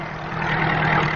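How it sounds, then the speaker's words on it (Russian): Heavy machinery engines drone steadily in the Sayan Mountains near Divnogorsk, Krasnoyarsk Krai, in 1980, with a deep, low rumble and a constant mid-range roar, fairly loud and continuous throughout. "перекрывая шумами моторов шелест листвы и пение птиц, идет техника"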